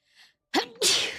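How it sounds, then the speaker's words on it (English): A Genshin Impact character sneezes once, a short breathy intake followed by a loud, sharp burst, close and alone with no talk. "Gonna sneeze."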